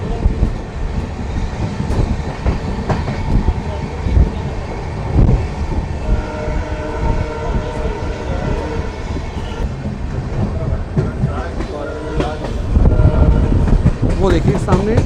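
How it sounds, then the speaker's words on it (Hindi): Amritsar-Bikaner Superfast Express train slowing and standing near a crossing before Talwandi station, with a steady rumble of rail cars, occasional clicks and squeals, and people talking over it throughout. "शायद क्रॉसिंग की वजह से ही यहाँ ट्रेन थोड़ा थम गई है।"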